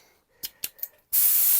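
A paint spray gun fires chameleon paint in a few short test bursts, three quick hissing puffs followed by a long, loud, steady spray close by.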